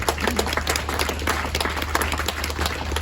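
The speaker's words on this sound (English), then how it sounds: "everyone behind all these performances as well, I think is deserving of a little bit of a smattering of applause" A smattering of clapping from a crowd at five-star horse trials, fairly even and continuous over a low steady hum, with no voices on top.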